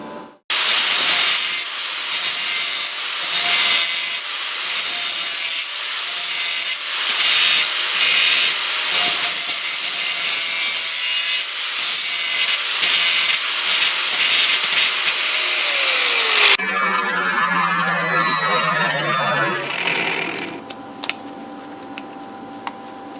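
A 4-inch angle grinder with a cutoff wheel grinds a notch in part of a fertilizer spreader, giving a loud, continuous high whine for about sixteen seconds before the tool winds down with a falling pitch and fades.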